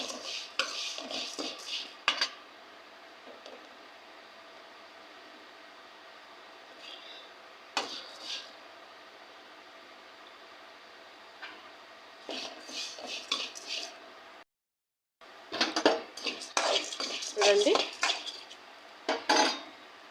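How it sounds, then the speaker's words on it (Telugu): Flattened rice (poha) stirred in a pan for laddu, heard as bursts of metal spoon clinking and scraping against the pan separated by quiet pauses, near and moderately loud, with a short dead gap near the end. "అందులోకి ఒక కప్పు అటుకులు వేసుకోవాలి బాగా ఫ్రై అవ్వనివ్వాలండి అటుకులు"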